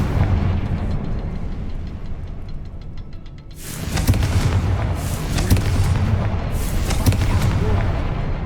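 A Confringo fire-blast spell detonates in Hogwarts Legacy with a loud, broad burst a few seconds in, followed by crackling, booming aftershocks over continuous combat noise, with a character's voice heard briefly.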